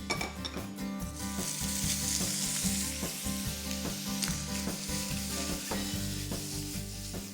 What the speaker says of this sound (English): In a skillet, brown the bacon in some oil.